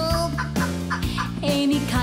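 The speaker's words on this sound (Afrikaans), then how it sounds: "Hoor jy die hoender wat kekkel?" A barnyard bird gives repeated short, throaty clucks and bursts in an uneven rhythm, close and fairly loud, layered over steady low tones with no talking.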